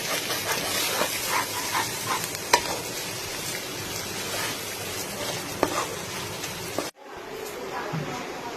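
Katla fish roe stir-fried in a pan, a continuous close sizzle with scraping stirs and occasional sharp clicks of the spatula, cutting off abruptly near the end to a quieter hiss.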